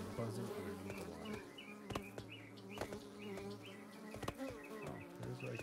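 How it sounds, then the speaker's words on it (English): In The Sandbox video game, bees drone steadily while heard from beneath the water, a dense close buzz dotted with faint rhythmic ticks and taps. "Look how you can hear the buzzing underneath the water."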